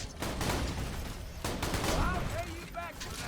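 Gunfire in Borderlands 2, with the shots loosing bouncing bullets: bursts of rapid shots ring out loudly, then ricochet whines and pinging sounds of bullets rebounding follow in the later part.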